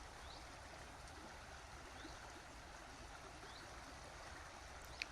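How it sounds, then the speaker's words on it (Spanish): A babbling stream flows steadily in a quiet natural setting, soft and continuous throughout with no voices, only faint higher twitters drifting over the water's gentle rush. "Siente el sonido del arroyo"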